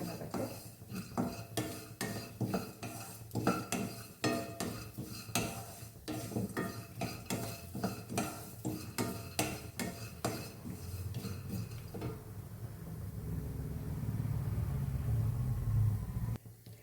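Jackfruit seeds roast with ghee in a kadai, stirred with a metal spoon, giving a quick series of sharp scraping clinks against the pan, followed by a low rumbling hiss near the end, close and fairly quiet.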